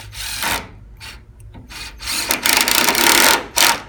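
A screwdriver grinds in short bursts as long screws are driven into the wood of an upright piano to mount caster wheels, close up, with brief pauses between runs.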